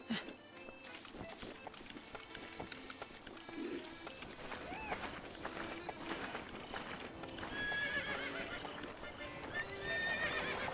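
In Zelda Breath of the Wild, a horse whinnies and its hooves clip-clop steadily in game audio, with bird coos and game music layered over the scene.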